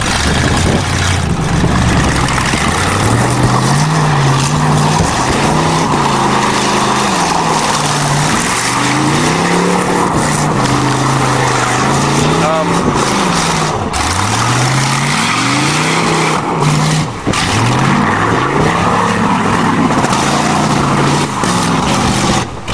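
A carbureted car races over a hilly farm course with jumps, its engine loud and close throughout, revving up and dropping again and again in a rising and falling whine with no pauses.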